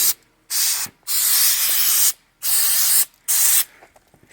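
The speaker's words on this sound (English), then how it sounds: "Hose this down a little bit." Water hose spraying down a part of a Massey Ferguson 1100 tractor, heard as four loud bursts of hissing spray with short gaps between them, close up and with no talking.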